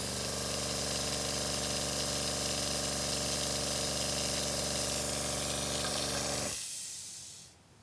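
Very quiet silent airbrush air compressor running with a steady, even hum and hiss that cuts off abruptly near the end, leaving near silence.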